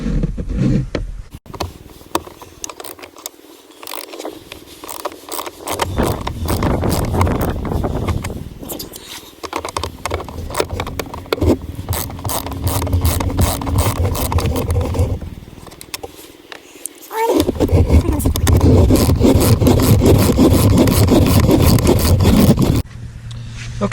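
Continuous scraping and rattling of hand tools loosening bolts on a GM blower motor control module, loud and close throughout, with brief pauses and a denser burst of ratcheting toward the end.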